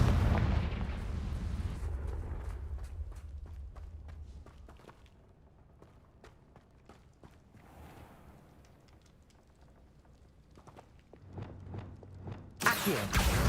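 Confringo blasting spell in the Hogwarts Legacy video game, a deep booming explosion that rumbles and fades, followed by scattered footsteps and clicks before another burst of rumbling blast.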